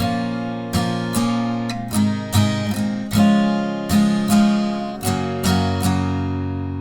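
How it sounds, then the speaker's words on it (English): Steel-string guitar chords strummed in a steady rhythmic pattern, bright and close, with sharp down-and-up strokes ringing out and changing chords every few beats. "the second way of playing this chord progression with this simple strumming pattern will sound like"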